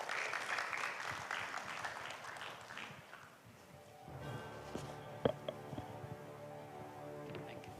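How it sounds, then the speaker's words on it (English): At a green shipping conference, an audience applauds as a professor comes up to the stage, soft crowd clapping that fades after a few seconds and gives way to quiet room noise with a few faint knocks. "Give applause to Professor Paul."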